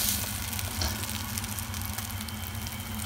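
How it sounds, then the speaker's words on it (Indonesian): Rice and beef fry and are stirred in a wok for Thai-style nasi goreng pattaya, a steady loud sizzle with faint scraping throughout, no voices. "kita aduk-aduk ya teman-teman sampai bumbunya merata"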